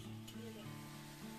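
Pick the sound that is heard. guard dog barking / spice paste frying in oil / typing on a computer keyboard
spice paste frying in oil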